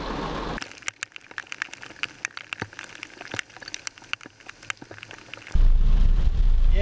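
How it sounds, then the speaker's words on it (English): Heavy rain falls outdoors, a sparse crackle of sharp drop impacts tapping close by, cut off near the end by a loud, rumbling rush of wind-like noise. "It's just raining hardcore."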